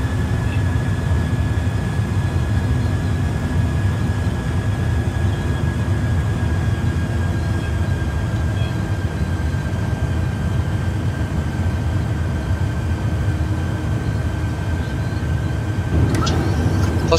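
Boeing 737 landing in a flight simulator game, a continuous loud engine and airframe rumble with a steady whine, a brief clunk near the end, no voices.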